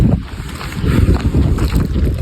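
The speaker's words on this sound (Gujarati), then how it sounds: "અહીંયા પવન એટલો માઇન્ડ બ્લોઈંગ પવન છે" Strong wind roaring and buffeting the microphone, a low continuous rumble that gusts throughout.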